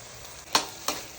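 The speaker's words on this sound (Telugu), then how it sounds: "ఇప్పుడు ఒక 2 టొమాటోస్ వేసుకోవాలి, చాప్ చేసింది 2. ఈ టొమాటోస్ అనేవి బాగా మగ్గిపోవాలి ఆయిల్లో." Chopped tomatoes fry in oil for a chicken curry, a soft steady sizzle broken by two sharp spatula scrapes close by, with no voices.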